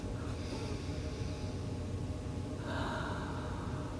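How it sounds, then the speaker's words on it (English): A long, slow deep breath, drawn in and let out again with an audible airy rush, close and steady with no talking. "Take a deep breath."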